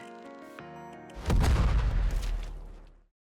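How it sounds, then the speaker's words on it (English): A loud explosion goes off in the game Nikke, a heavy booming blast that erupts after a sustained musical chord, then rumbles and fades out before cutting to silence. "And there's a loud explosion."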